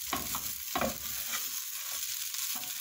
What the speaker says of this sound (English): when you're mixing it in your pan, you should be using medium heat, so to avoid your rice from getting burnt